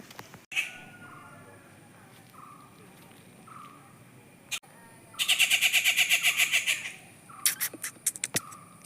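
A bird in the trees gives a loud, rapid, pulsed chattering burst of about two seconds. Fainter scattered chirps and clicks come before it, and a few sharp calls follow, over a quiet outdoor background.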